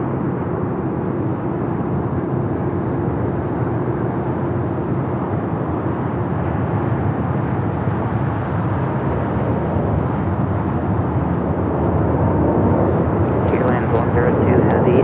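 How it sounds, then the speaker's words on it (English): An American Airlines Boeing 787 Dreamliner takes off from runway 25R at LAX, its engines producing a loud, sustained roar that holds steady and swells slightly near the end, with a voice talking over it. "American Dreamliner now rolling down to 25 right."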